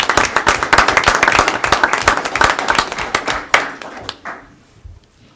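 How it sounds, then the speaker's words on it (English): A room of people at a city council meeting claps in steady applause that thins out and fades to a few last claps. "He should have a round of applause"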